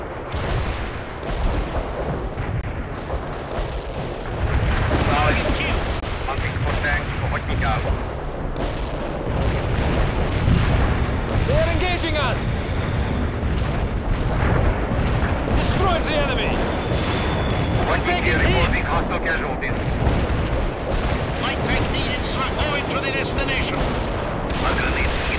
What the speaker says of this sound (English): Front up firing mortars.